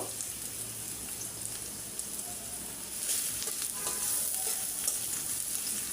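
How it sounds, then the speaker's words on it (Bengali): Onion and garlic frying in oil in a pan for lentil dal, a steady close sizzle with a crackling, rain-like texture that grows louder partway through. "এখন আমি পেঁয়াজ আর রসুন একটু দিয়ে একটু নরম করে ভাজতে নিব"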